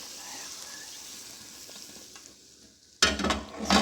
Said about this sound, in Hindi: ये प्याज हमारे बिल्कुल लाइट गोल्डन होने वाले हैं, तो अब बस इसमें हम ये तड़का राइस में ऐड,